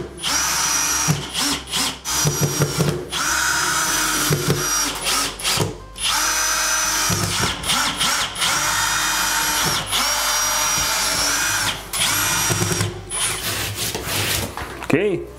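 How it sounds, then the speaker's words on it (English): Power drill driving screws into old drywall during a bathroom vanity light and drain relocation, a loud whirring drill in repeated bursts with short pauses and tool rubbing between them. "we're going to have to put some screws in the old drywall too"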